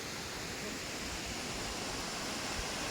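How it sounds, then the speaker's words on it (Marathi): Ranpat waterfall at Ukshi pours in monsoon rain as an even, unbroken broadband roar that holds steady throughout, with no voices. "तर हा आहे आपला रानपाट धबधबा"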